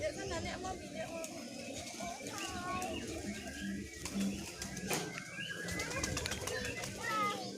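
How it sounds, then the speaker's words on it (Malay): A flock of pigeons being fed crowds around people, with soft cooing and bursts of flapping wings among children's chatter and voices in the open air. "kasih makan merpati, dikelilingi oleh merpati"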